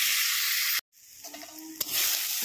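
Potatoes fry in oil for a fish curry, giving a loud, close, steady sizzle that breaks off briefly, then returns more softly with light stirring clinks.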